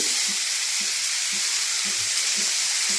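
Eggplant seasoned with turmeric and salt fries in a pan with a steady, loud, continuous sizzle. A soft, regular stirring rhythm runs underneath.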